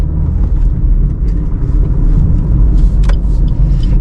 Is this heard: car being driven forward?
yes